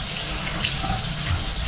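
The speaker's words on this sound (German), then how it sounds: "Löffel sauber machen, ausspülen." Tap water runs steadily into a kitchen sink as a spoon is rinsed under the stream, a close, continuous hiss and splash with no voices.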